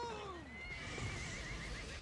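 A horse in a video game lets out a loud, dramatic whinny that falls in pitch, with game sounds and a voice under it.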